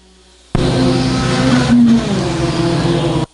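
Race cars roar past close by on a speedway oval track, a loud sustained burst of engine noise starting abruptly and swelling as the pack goes by, then cutting off sharply, with no talk.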